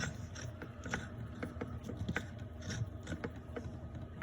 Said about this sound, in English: There's your gear puller.